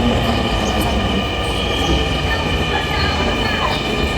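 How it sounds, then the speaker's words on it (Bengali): A Dhaka metro rail train passes loudly and close by, a steady roar of wheels and rail noise with high whining tones, filling the whole stretch without pause. "এই সেই মেট্রো রেল।"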